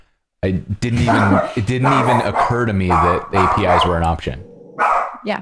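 A dog barks and yips in the background, partly buried under a close, steady conversation between two people.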